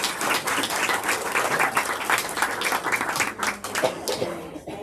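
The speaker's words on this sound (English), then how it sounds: "Applause for you all for coming" Audience applause at an evening bookstore event for a cookbook author, a dense, even wash of clapping hands filling the whole clip with no break.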